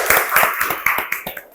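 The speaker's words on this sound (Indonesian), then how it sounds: "tepuk tangan untuk kita semua" A group clapping hands in a classroom lesson, about a dozen sharp, rhythmic claps in quick patterned bursts, close and fairly loud with no talk.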